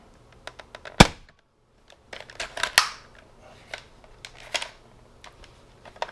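A Nerf Strong-Arm revolver blaster firing, one sharp loud snap followed by a cluster of clicks and a second crack, then scattered lighter clicks from handling the cylinder, close with no talking.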